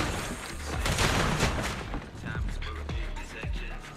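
Automated turrets firing in the video game Zenless Zone Zero, a rapid series of sharp gunfire bursts and mechanical clanks repeating over dense game noise, loud and close throughout.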